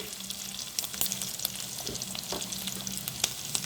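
Sand whiting fish frying in oil in a pan, a close, steady sizzle with scattered sharp pops and crackles from the hot oil, running without pause.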